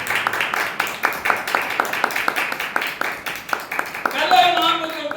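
Church congregation clapping together in steady rhythmic beats at a sermon gathering, fairly loud and close, with a sustained tonal sound rising near the end.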